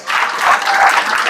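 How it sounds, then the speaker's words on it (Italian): An audience at a provincial party festival applauds the mayor in a short, dense burst of clapping that is fairly loud throughout. "un applauso a Maddalena"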